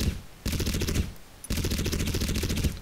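Rapid automatic gunfire from a high-recoil rifle in the shooter game Crysis, two sustained bursts separated by a short pause, loud and close.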